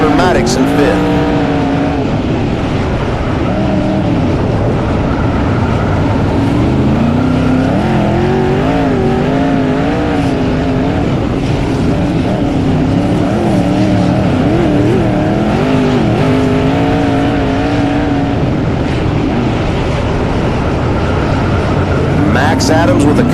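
Race cars roar around a track continuously, engines droning and shifting pitch as they run close together, under an announcer's steady commentary.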